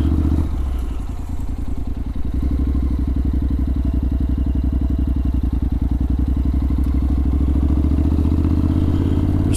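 A 2023 motorcycle rolls along and swings around to park on the road, its engine a steady, close, low idling thump with a rapid clattering pulse that stays loud throughout, with no talk over it.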